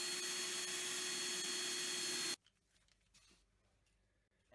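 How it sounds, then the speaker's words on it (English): A loud, steady whine of a power drill boring out a metal rivet for a couple of seconds, then it stops abruptly, leaving faint handling noises. "First step, drilling out the rivet."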